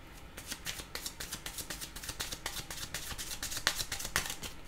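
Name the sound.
tarot cards being shuffled and drawn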